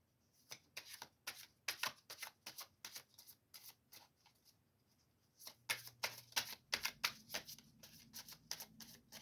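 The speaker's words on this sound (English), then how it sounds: "Let's pull a tarot card to go with the Quran." Tarot cards are shuffled in quick riffling bursts, a rapid series of crisp, close flicks, with a short pause before a second flurry of shuffling and card pulling.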